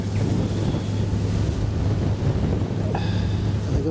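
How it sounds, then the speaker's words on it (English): Steady wind buffets the microphone aboard a boat cruising on the Norfolk Broads between Yarmouth and Loddon, with constant rushing water and a faint whistling tone; no one speaks. "When you get that wind blowing in your face"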